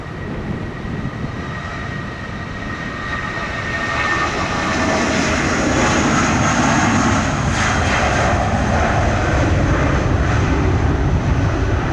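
A JetBlue airliner takes off from runway 07 at Montego Bay, Jamaica, its jet engines roaring loud and steady, swelling in intensity as it accelerates down the runway.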